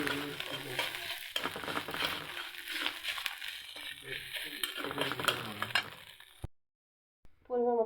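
Chopped onion sizzling and being stirred in hot oil in a pan while pasta is cooked, a dense crackling fry with scraping strokes, then a brief silence and a short burst of talk at the end.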